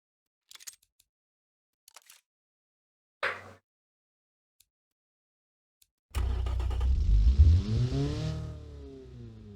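A game car engine in Automation, fitted with a carburetor, revs up loudly and alone after a few faint clicks, rising and falling in pitch through one sustained run of about three seconds.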